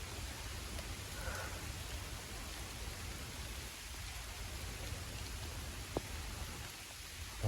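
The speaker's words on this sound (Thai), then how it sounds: "เพราะว่าฝนตกนะ" Steady rain falling outdoors, a dense, even hiss that stays fairly soft and constant throughout with no voices.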